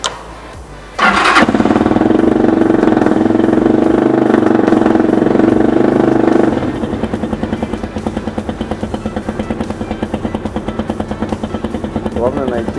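Cold motorcycle engine cranks and catches with the choke fully pulled, roaring loudly and steadily up close before dropping to a lumpy, pulsing idle.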